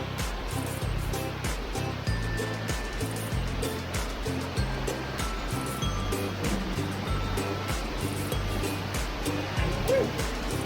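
A waterfall on a Highlands, North Carolina hiking trail roars as a steady, broad wash of rushing water, close and loud from start to finish, with faint movement and low rumbles mixed in.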